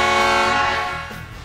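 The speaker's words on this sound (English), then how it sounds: "Nice little switch here for the air horns." Train-style air horns mounted on a Ford Platinum pickup blare in one loud, sustained multi-tone blast that fades slightly over its second and a half, heard alone.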